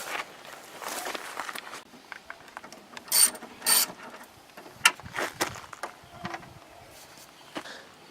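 Ratchet with a 13mm socket working on a car's tail light bolts: a few short, scattered bursts of clicking and metallic rattles, close by and fairly quiet, separated by pauses.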